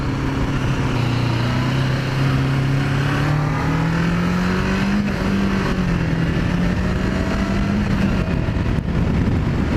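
Kawasaki Ninja 500R motorcycle accelerating hard through the gears, its engine note rising steadily and dropping back at each shift, loud and continuous with no talking.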